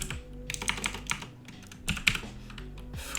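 Keys on a computer keyboard clatter in quick irregular bursts with short pauses between, close and fairly crisp, while typing out a name.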